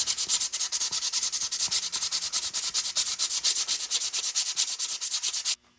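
Rapid rhythmic rubbing strokes scrub worn brake shoes from a 1981 Honda XL500S motorcycle, a steady back-and-forth abrasive scratching, close and loud, that stops abruptly at the end.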